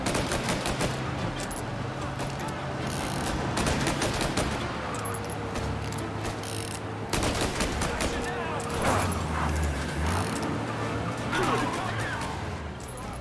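Gunfight action from the video game Mafia Remake, with dense bursts of automatic gunfire and overlapping shots layered over a steady game soundtrack and ambience, sustained at fairly even loudness throughout.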